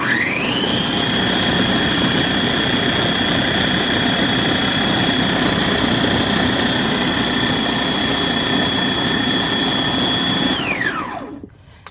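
A low-end food processor milling oats whirs at a loud, steady high-pitched motor whine for several seconds, then winds down abruptly near the end.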